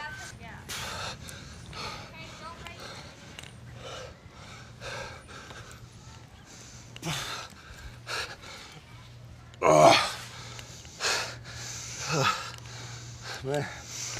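Heavy, rhythmic breathing and sharp gasps from a basketball player during a strenuous workout, with bursts of forced exhales growing louder toward the end, interspersed with a coach's quiet spoken encouragement.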